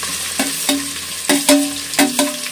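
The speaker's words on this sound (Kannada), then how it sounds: "ಇವಾಗ ಈರುಳ್ಳಿ ಹಾಕ್ತಾ ಇದ್ದಾಳೆ ನೋಡಿ" Sliced onions fry in a pan for pulao with a steady sizzle. Several sharp clanks of a spoon stirring against the metal come at irregular intervals, close by and with no talk.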